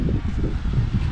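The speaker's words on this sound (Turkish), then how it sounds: "Çok rüzgar var gibi geliyor." Steady, loud wind buffeting the microphone outdoors at a campsite in Şile, Turkey, a continuous low rumble and roar with no other sounds standing out.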